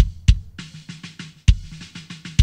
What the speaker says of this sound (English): So with the EQ and the compression, the kick sounds like this.